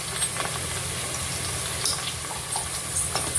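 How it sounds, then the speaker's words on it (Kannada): Spices such as coriander sizzle steadily in hot oil in a pan for paneer masala, a soft even frying hiss with occasional faint stirring scrapes, heard alone. "ಇದು ಆಯಿಲಲ್ಲಿ ಹಾಕಿ ನಾವು ಈ ಥರ ಕಂದಿಸ್ಕೊಳ್ಳೋದ್ರಿಂದ ಚೆನ್ನಾಗಿ"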